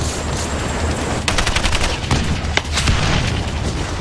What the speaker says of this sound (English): The SEALs are immediately pinned down by a barrage of machine gun fire.